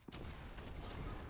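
A burst of rapid gunfire in an online shooter video game, at a fairly low level, with a sharp shot at the start followed by a dense rattle of fire.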